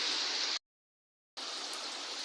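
Heavy rain pouring down as a dense, steady hiss, cut off briefly by a moment of silence before resuming just as strongly.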